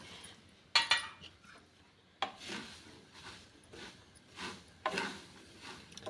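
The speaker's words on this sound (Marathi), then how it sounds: "आता यामध्ये आपण शेंगदाणे टाकून घेऊया सर्वच शेंगदाणे मी एकाच वेळेस टाकणार आहे" Peanuts pour and scrape through hot salt in a pan for dry roasting, a few separate rattling, gritty bursts of grains shifting against metal, close but fairly quiet, with no speech.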